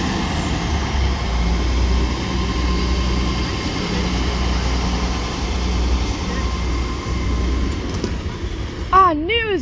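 A Mark 5 passenger train draws in at a station with a steady low rumble and engine drone that builds and holds, while a short rising tonal whine sounds at the very end.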